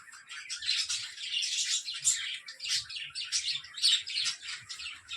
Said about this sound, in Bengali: পাখিগুলো ওদের ভাষায় কথা বলে মাথা খারাপ করে দেয়